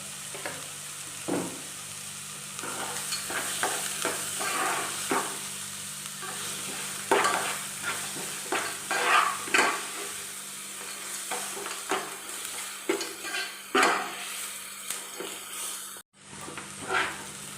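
Tomato rice being stirred and mixed in a hot pan, with steady scraping spoon strokes over a soft sizzle, close up and continuous with no talking.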